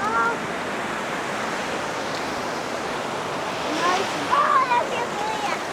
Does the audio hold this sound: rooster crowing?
no